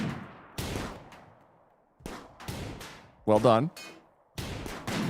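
Video-game gunfire hits empty turrets in several heavy booming bursts, each with a fading tail, separated by short gaps; a voice speaks briefly between shots.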